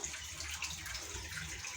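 Water drains from a washing machine, gushing and splashing steadily in a continuous rushing flow, fairly close and even throughout, with no talking.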